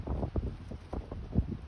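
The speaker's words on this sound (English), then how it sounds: "It's still windy out, cold. I'm cold. The trees are blowing." Wind blowing outdoors on a cold day with trees stirring in a backyard, heard as gusty, buffeting low rumbles that bump irregularly against the microphone at close range.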